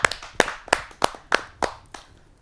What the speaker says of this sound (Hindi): आप सबकी जोरदार तालियों के साथ